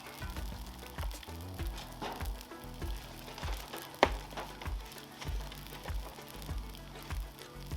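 Eggs frying in oil on a 36-inch Blackstone griddle, a steady close sizzle broken by regular scraping and chopping strokes of a spatula against the steel surface.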